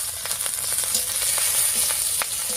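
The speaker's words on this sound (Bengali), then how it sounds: "রসুন, কাঁচা লঙ্কা আর কালো জিরাটা একটু ভাজা হয়ে গেছে।" Crushed garlic, slit green chillies and nigella seeds frying in hot mustard oil in a kadai, a steady close sizzle broken by light scrapes of stirring.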